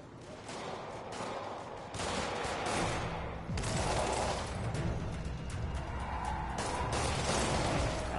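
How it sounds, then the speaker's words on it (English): Dense bursts of gunfire crackle nonstop in a Spider-Man video game, rapid shots layered over a busy, loud backdrop with no voices. "A lot of gunfire."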